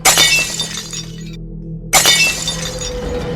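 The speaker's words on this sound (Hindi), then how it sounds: "एक एक कर तीनों शीशे चकनाचूर हो जाते हैं।" Mirrors shatter one after another: a loud crash of breaking glass, a short silent gap, then a second crash with lingering tinkling shards, close and forceful.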